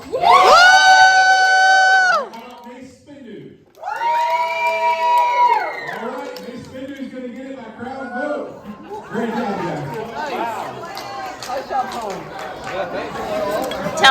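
A crowd at a robot combat event cheers, shouts and applauds for the robot Helicopter, loud and close: two bursts of raised voices, then a sustained wash of cheering and chatter.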